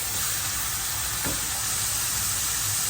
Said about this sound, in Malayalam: അപ്പം ചൂടായ വെളിച്ചെണ്ണയിലോട്ടേക്ക് നമ്മൾ മുറിച്ച് വെച്ച 2 തക്കാളി ഞാൻ ഇടുകയാണ്.